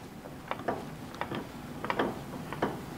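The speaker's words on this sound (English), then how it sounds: "So I assume we got to take this nut off of the back," A nut being turned off the back of an old shop tool with a wrench, heard as several separate close metallic ratcheting clicks in short irregular bursts against a faint quiet background.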